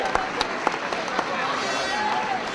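Crowd applauding for the Bruree and Patrickswell hurling teams at the 2006 County Limerick Senior Hurling Final, a steady wash of clapping with sharp individual claps standing out, continuous and moderately distant.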